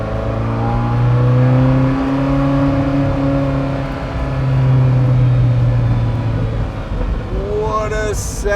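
A Ferrari F40 cruising at moderate speed gives a steady, loud engine drone from inside the cabin, rising and easing slightly with throttle changes, with a short higher whine near the end.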